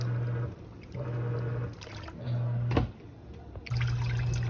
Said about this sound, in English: So this is how the water drains.